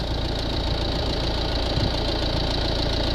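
A Mercedes Vito van's engine runs steadily at idle during a blocked DPF cleaning, a continuous close mechanical drone with faint knocking and no talk over it.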